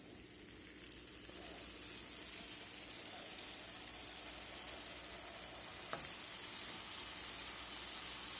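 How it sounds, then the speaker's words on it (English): Banana pieces sizzle in a hot pan while making bananas foster, a steady crackling fry that holds for several seconds and grows slightly louder toward the end. "We're going to let them sizzle there about 30 seconds"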